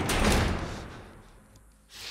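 In The Last of Us video game, doors are barricaded with a heavy thump and scraping clatter at the start that fades out, then a softer knock near the end.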